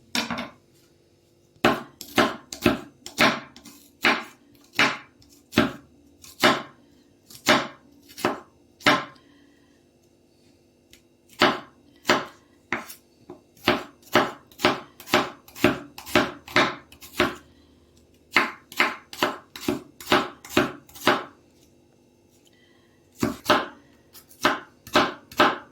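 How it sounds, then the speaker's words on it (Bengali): A knife chops an onion on a board in steady bursts of crisp, evenly spaced thuds, close and clear, with short pauses between runs and no talking. "তো আমি পেঁয়াজটা কেটে নিই।"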